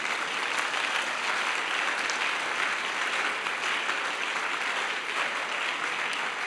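A church congregation applauding, dense sustained clapping from a crowd that stays even and loud throughout, with no pause.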